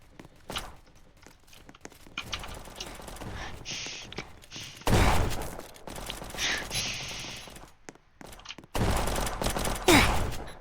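Gunfire in the Roblox game Prison Life comes as several loud, rapid bursts separated by quieter gaps, with faint clicks and footsteps between them.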